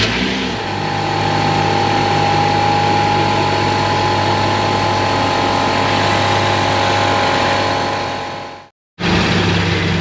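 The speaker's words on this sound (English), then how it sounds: "It's working. I can hear the pump." A BMW X5 air suspension pump runs during a test, a loud steady mechanical drone with a constant tone for about nine seconds, briefly cutting out before resuming.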